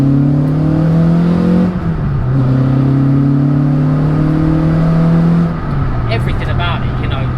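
Engine of a Renault Clio 172 Renaultsport hot hatch driven on back roads, a loud steady drone that dips and climbs as revs change, with an audible gear change midway and the note rising again after.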